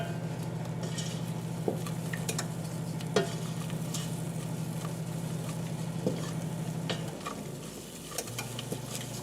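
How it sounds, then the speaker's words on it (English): Flour cooks in melted butter for baked mac and cheese, a low steady sizzle with occasional spoon scrapes and taps against the pot, close and unbroken. "Now we're going to add in the flour. We're going to cook this a little bit just to get the flour taste out."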